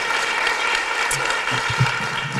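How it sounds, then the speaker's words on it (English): An audience at a chancellor's address claps together in a steady, continuous wash of applause that holds at a moderate level throughout. "Let's congratulate, say hello, Helen."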